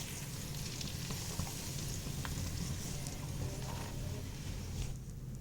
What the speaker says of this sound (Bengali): ভালো করে নেড়ে চেড়ে রেডি করে রাখা মশলাটার মিশ্রণটা ঢেলে দিতে